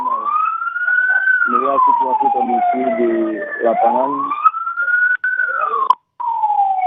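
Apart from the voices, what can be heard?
emergency vehicle siren at landslide search site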